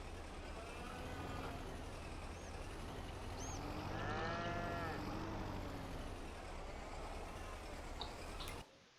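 A cow in Farming Simulator 22 lets out a long, drawn moo over a constant low engine-like drone in the background.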